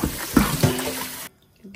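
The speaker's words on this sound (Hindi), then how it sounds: "अच्छी तरह से ज़रा वॉश करके" Tap water running steadily into a sink while food is rinsed, with splashy bursts as items pass under the stream, then the flow stops abruptly.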